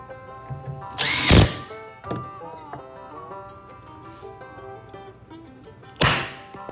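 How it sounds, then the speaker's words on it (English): A woodshop power tool whirs in a loud short burst, then a few knocks and clunks, and another burst starts near the end over a faint musical background. "Power tools."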